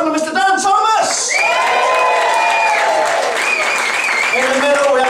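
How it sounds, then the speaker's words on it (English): Loud comedy-club audience applause with cheering and whoops at a comedy night in a Swindon pub, steady and full throughout, with an amplified voice calling out over the crowd. "let's have a huge round of applause"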